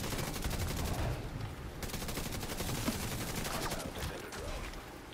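Gunfire in a Division 2 PvP fight sounds as a steady stream of rapid, evenly spaced shots, loud and sustained with only brief lulls.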